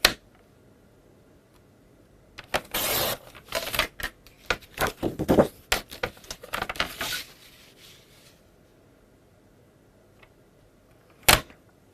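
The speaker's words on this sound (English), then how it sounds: "Just going to cut them on the score lines." Scissors cutting cardstock along score lines at a papercraft desk: a close, crisp run of rapid snips lasting about five seconds, then quiet, then one more sharp cut near the end, with no talking.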